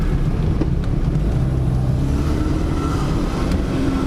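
A car driving after a botched transmission repair, its engine droning low and steady from inside the cabin with road and wind noise, continuous and fairly loud, no voices.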